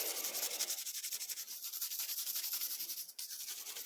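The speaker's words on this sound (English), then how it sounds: "So I'm just going to give this guy a quick scrape here." A hand scraper with a sturdy, non-flexing handle scrapes residual rust off metal in a steady run of close, rasping strokes, loud and continuous with a brief dip near the end.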